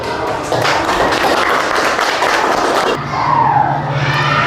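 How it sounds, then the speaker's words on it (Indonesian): Students in a classroom clap for group 1 after its presentation, a loud, scattered burst of applause for about three seconds before it tapers into quieter room noise. "Beri tepuk tangan buat kelompok 1."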